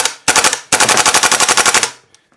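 A Well Pro PPK-20 full-metal gas blowback airsoft SMG firing full auto at about 12 rounds per second: a short burst, a brief pause, then a longer rapid burst of loud, sharp, close reports, ending with faint clicks.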